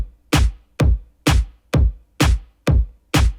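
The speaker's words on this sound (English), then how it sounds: "let's just do kicks and snares" Programmed kick and snare drum pattern in Soundtrap, seven evenly spaced punchy hits alternating in a steady beat, clean and loud with silence between strikes.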